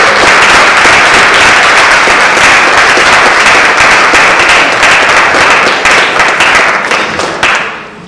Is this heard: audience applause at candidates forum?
yes